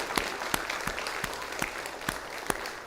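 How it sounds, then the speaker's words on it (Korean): A church congregation claps in thanks during a Sunday afternoon worship service, a steady rattle of applause with a few distinct louder claps, moderately faint and sustained throughout. "우리 하나님께 감사의 박수를 치십시오"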